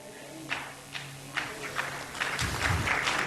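A church congregation breaks into scattered applause during a sermon, a few faint isolated claps at first that thicken into a brief, fuller patter of clapping from a room at some distance.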